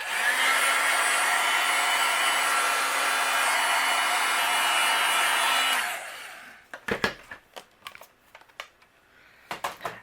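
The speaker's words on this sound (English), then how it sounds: "I'm going to go ahead and use my heat gun and we'll melt this." A heat gun blows a loud, steady whoosh for about six seconds while melting white embossing powder on a paper craft, then cuts off and leaves a few sharp clicks and taps.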